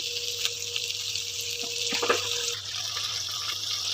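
Water is poured over potatoes in a pot of mutton biryani, a short splashing, gurgling pour over a steady background hum, close and brief.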